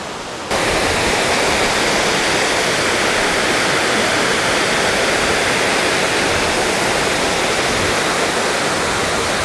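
A mountain stream rushing down a valley beside a hiking trail in Seoraksan, near Biseondae, giving a steady, full, close roar of flowing water that begins abruptly and continues unbroken with no voices.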